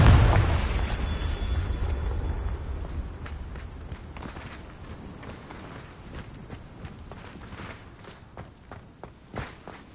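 Confringo fire-blast spell from Hogwarts Legacy, a loud booming burst at the start that decays, followed by scattered sharp impacts and footstep-like hits fading in and out.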